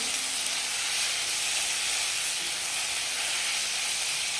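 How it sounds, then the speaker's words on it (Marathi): Flat beans (ghevda) sauté with salt in a hot pan, giving a continuous, even sizzling hiss that holds steady from start to finish, with no talking. "आता छान असं पुन्हा परतून घेऊया"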